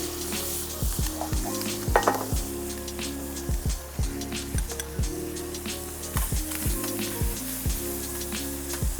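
Seasoned sliced squid hits a hot pan and sizzles loudly and continuously, with repeated rhythmic scraping and tossing strokes of a utensil against the pan close by.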